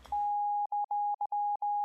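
A Serum 2 synth lead built from a sine wave plus a drawn upper harmonic plays pure, clean tones in short, choppy repeated notes with a funky, stuttering rhythm, heard alone.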